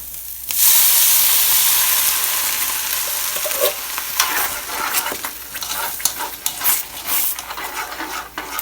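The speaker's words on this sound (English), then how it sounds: "When your onions has gotten brownish to their edge, now you can add sauce in." Sauce poured over browned onions frying in a pan bursts into a loud, steady sizzle that gradually settles, with stirring scrapes and hissing bursts toward the end and no talk.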